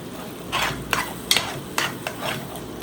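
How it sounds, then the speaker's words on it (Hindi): Eggs frying with green chillies in a pan, with a soft sizzle and repeated scraping strokes of a spatula coming in short bursts close by. "ये कैसे अंडे भून रही है? ये हरी मिर्चों वाले,"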